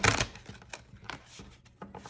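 Tarot cards are shuffled by hand, with a burst of riffling followed by several softer, uneven flicks and taps, close and clear with no talking.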